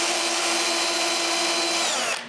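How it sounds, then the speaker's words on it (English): A small power drill whirs steadily at high speed for about two seconds, drilling small pilot holes in a round wooden frame, then winds down at the end. "I drill some pilot holes."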